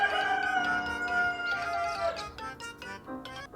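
A rooster crows a drawn-out cock-a-doodle-doo, moderately loud, followed by a few short clucking calls.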